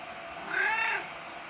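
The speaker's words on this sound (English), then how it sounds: "Meanwhile, Cat's still wandering around." A cat in a knife-forging workshop gives a single clear, drawn-out meow, rising then falling, close by and alone over quiet room noise.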